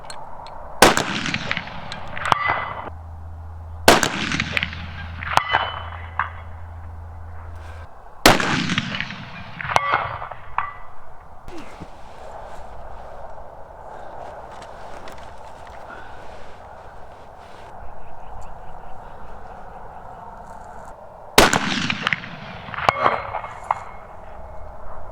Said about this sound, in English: We're both set up at 400 yards on our tripods, and we're going to take standing up shots